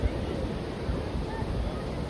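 Sea waves washing in at Suvali beach, a steady broadband surf rush with wind buffeting the microphone, continuous and fairly close, with faint voices of friends nearby.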